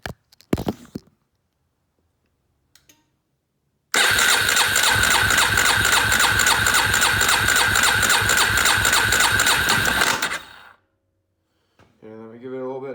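2004 Polaris Predator 500 ATV engine cranking and running loudly and steadily for about six seconds, then cutting off, with brief knocks before it and a voice after.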